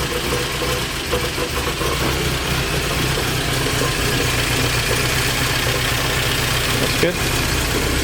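An early Euro-spec Porsche 924, revived after sitting as a barn find, idles with a steady, rough mid-pitched engine drone and faint knocking, while a voice speaks briefly over it.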